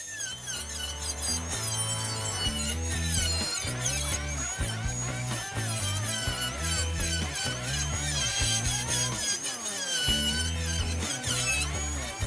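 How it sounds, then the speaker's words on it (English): An angle grinder whines loudly through the sheet metal of a 1946 Ford coupe in repeated cuts, its high-pitched screech surging and dipping with the pressure, running almost without pause. "we're just gonna cut her out here with the grinder"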